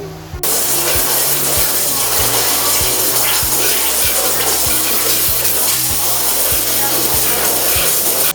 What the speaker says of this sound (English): This is the water jet room.